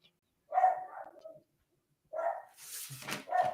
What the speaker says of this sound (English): You guys hear my dog?